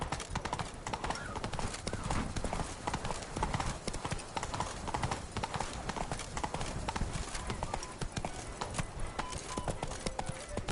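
Hooves of a horse in The Witcher 3 video game clatter in a steady, fast clip-clop gallop throughout, fairly loud against a busy game soundscape.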